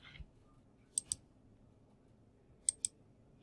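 Two pairs of sharp, quick mouse clicks, about 1.7 seconds apart, tap out alone in a quiet room.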